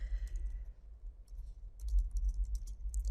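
Computer keyboard typing in short bursts of quick, light clicks, close and fairly quiet, broken by a brief pause and then resuming more densely, with no talk.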